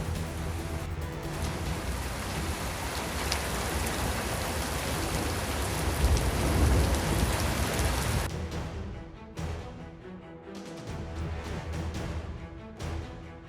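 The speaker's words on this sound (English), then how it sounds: "bringing heavy rain, thunder, lightning, and roads that were quickly covered by water" Heavy, steady rain in a thunderstorm roars in a dense wash of noise, easing slightly and becoming more uneven toward the end.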